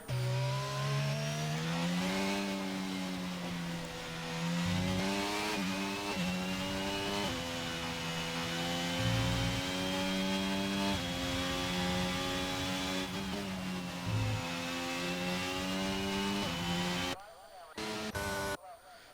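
Race cars in a racing video game run an out lap at Australia, a steady, close engine drone with shifting pitch throughout, briefly cut near the end.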